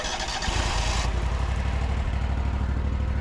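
A Grasshopper mower with a Buffalo Turbine engine cranks and catches, then settles into a close, steady, loud clattering idle with no voices.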